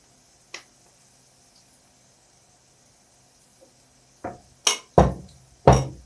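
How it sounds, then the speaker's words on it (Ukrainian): A metal lid clinks down onto a frying pan of fritters made with egg, greens, sausage and cheese: a faint tap early on, then a burst of four sharp clatters near the end, each loud and quickly decaying. "Так, і накриваю кришкою"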